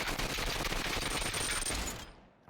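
Rapid automatic gunfire in the VR shooter game Population One, a dense, loud burst of shots fired in quick succession for about two seconds before cutting off, with no talking over it.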